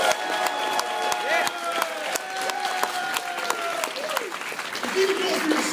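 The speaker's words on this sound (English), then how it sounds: "Put your hands together for the lovely, the talented Fred Patterson" A convention audience at a voice actor panel applauds and cheers as a performer is introduced, steady crowd clapping under music and voices in a large hall.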